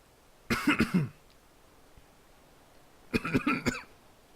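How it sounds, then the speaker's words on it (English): A person coughs twice, each time a close, loud burst of three or four quick hacks, with a quiet pause of about two seconds between them. "I keep like having that cough that just randomly appears"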